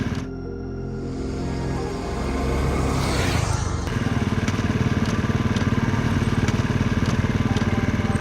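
A motorcycle engine runs loud and close, with a rough rumble that settles after a few seconds into a steady, rapidly pulsing idle with no voices over it.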